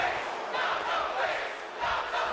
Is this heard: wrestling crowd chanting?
yes